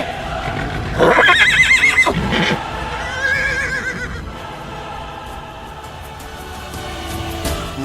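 A horse gives a loud, close whinny, followed by a second shorter neigh, while faint hoof clops and background noise carry on afterward.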